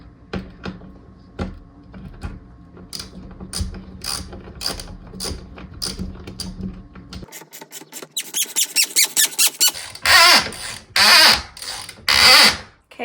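A drill drives a lag bolt with washer into a wall header while bifold swivel barn door hardware is being mounted. Choppy mechanical whirring comes first, then a quick run of stuttering pulses and three loud, sustained bursts near the end, with no talking.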